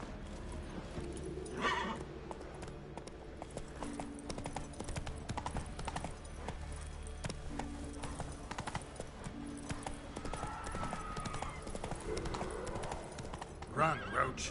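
Roach, the horse in The Witcher 3, gallops with steady rhythmic hoofbeats and a neigh or two, set among game music and ambient effects, with a voice speaking briefly over it.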